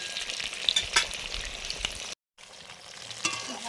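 Boiled taro pieces rubbed with salt fry in a pan of oil, giving a close, continuous crackling sizzle with a spoon scrape or two, briefly cut to silence before the frying carries on.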